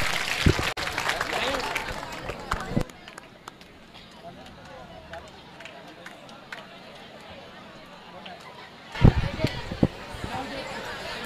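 An audience claps at the thank-you session of an educational guidance camp at Shri Malanggad. Bursts of applause open and close the stretch, and a speaker talks over a quieter middle section.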